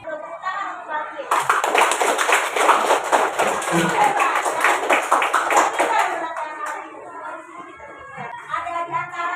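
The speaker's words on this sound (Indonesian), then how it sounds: "Tepuk tangan untuk bangkit." Pupils in an elementary school classroom applauding a classmate: a burst of many small hands clapping rapidly for several seconds, then fading as children's voices and talk continue.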